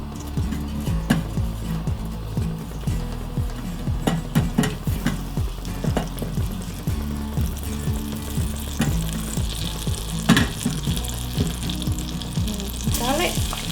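Butter sizzles in a hot pot on medium-high heat for a honey garlic sauce, a steady frying crackle punctuated by frequent sharp pops and spoon clicks, close and continuous.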